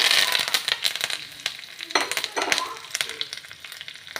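Mustard seeds, lentils, curry leaves and dried chillies sizzle and crackle in hot oil for a curry leaf chutney tempering, with a steady bright frying hiss and scattered sharp pops throughout.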